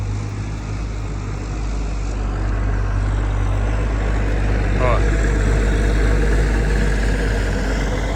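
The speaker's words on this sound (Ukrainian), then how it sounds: "Зараз трактор проїде." A heavy engine drones low and steady close by, like a tractor rolling past, with a brief voice over the rumble.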